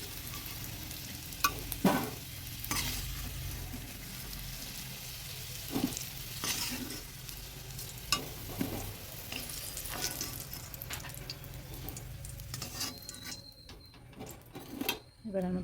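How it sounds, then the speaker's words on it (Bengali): Potatoes frying in oil, a moderate crackling sizzle with repeated spatula scrapes and taps against the pan, quieter toward the end with a few sharp clicks. "আলুটাকে ভেজে নিই।"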